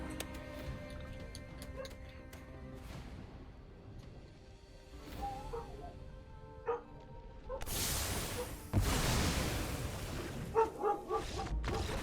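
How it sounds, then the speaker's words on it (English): Dogs bark in scattered bursts in the card game Magic Arena, over a busy, cluttered background with ticking and clattering sounds, growing louder and denser toward the end. "I've got dogs barking everywhere"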